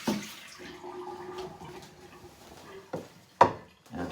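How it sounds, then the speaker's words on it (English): Hot water is dumped out of coffee cups beside a Starbucks Barista espresso machine, a soft pouring wash broken by a few sharp splashes and clinks near the end, quiet and close. "we take our coffee cups full of hot water and dump them out"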